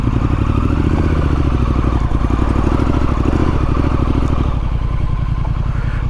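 A Triumph Street Scrambler motorcycle riding through dry Kent countryside, its engine a steady, loud, close rumble with rapid firing pulses and some mechanical clatter throughout.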